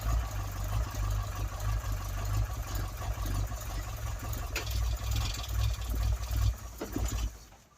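A Ford Cortina mk3 estate engine idles close by with a steady low rumble and rough, uneven pulsing throughout, loud and alone.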